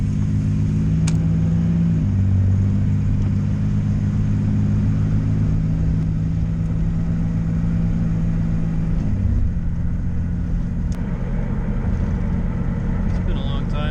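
Inside the cab of a moving Chevrolet C1500 with a turbocharged 3100 V6 and a new muffler, a steady low engine drone and road rumble fills the cabin, its pitch dropping and rising a couple of times as the truck shifts.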